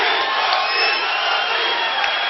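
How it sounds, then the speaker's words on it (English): A fight-night arena crowd roaring and chanting "Rocky" at a combat event, a dense, loud, continuous wall of voices without clear breaks. "They're chanting Rocky."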